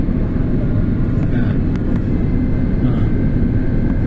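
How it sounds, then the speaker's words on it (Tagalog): Airliner landing at Hong Kong, heard as a loud, steady engine and airflow roar that fills the whole stretch without pause. "Bumaba na yung aeroplano."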